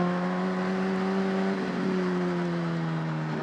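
A car pulls away in first gear onto a highway, its engine giving a steady, close droning hum that holds nearly level in pitch for a few seconds. No one speaks over it.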